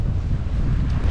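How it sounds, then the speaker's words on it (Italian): Strong, gusty wind buffets the microphone at sea off the island of Elba near Porto Azzurro, a dense steady roar with a heavy low rumble, likely mixed with waves, throughout with no talking. "vento bello teso, un pochino rafficato"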